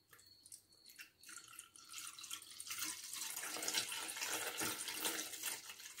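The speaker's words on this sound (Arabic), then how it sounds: "غادي نديرو نص لتر ديال الحليب اللي هي 500 مليلتر" Half a litre of milk pours in a home kitchen as a rising, splashing liquid stream. It starts with a few faint drips and grows into a steady, close pour.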